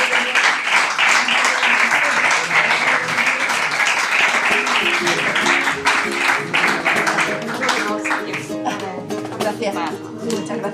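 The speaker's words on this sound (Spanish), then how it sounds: "Le damos un fortísimo aplauso a Mercedes." Audience applause closing a lecture by Mercedes de la Torre at a conference on Andalusian speech, steady dense clapping throughout that thins slightly toward the end, with voices talking over it in the later seconds.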